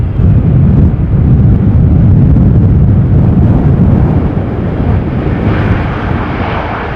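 An Austrian-registered jet airliner flies over Amsterdam Schiphol Airport during a storm, a loud, steady, close engine roar with rumbling low end that holds throughout and eases slightly at the end.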